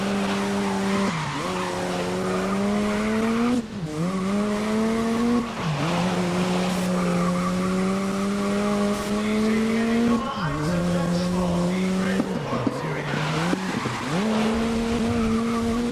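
A race car in the GRID racing game roars steadily close up, its engine pitch climbing and dropping with repeated gear shifts while tires squeal and skid through corners, loud and continuous throughout.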